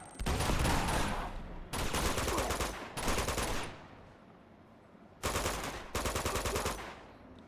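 Bursts of rapid automatic gunfire from the Uncharted 2 video game come in loud clusters separated by short pauses, with no speech.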